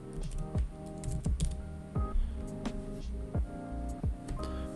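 Keys clatter on a computer keyboard as a certification number is typed in, a quick irregular run of close, light clicks and taps.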